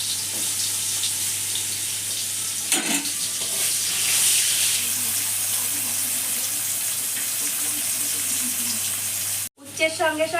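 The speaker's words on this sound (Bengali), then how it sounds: "নুন দিয়ে হলুদ দিয়ে মেখে নিয়ে আমি ভেজে নেব উচ্ছেটাকে" Bitter gourd fries in oil in a kadai with a loud, continuous hiss and crackle close by. A few stirring scrapes come through, and there is a short break near the end before the sizzling resumes.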